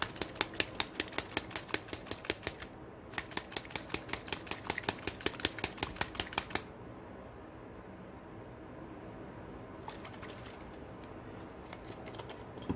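A homemade shimmer mist spray bottle is shaken hard, giving a fast, steady rattle of close clicks in two bursts with a short break between, then stopping into near silence.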